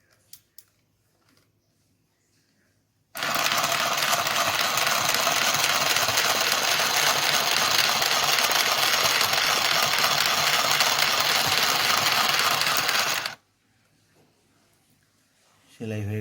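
Mini sewing machine stitching fabric, a loud continuous mechanical whirring and rapid needle chatter running steadily for about ten seconds, then stopping abruptly, with quiet stretches before and after.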